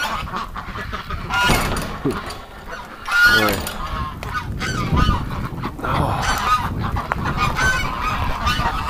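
Ducks and geese in a farm pen honk and quack loudly close by, overlapping calls rising and falling throughout, with a brief spoken exclamation early on.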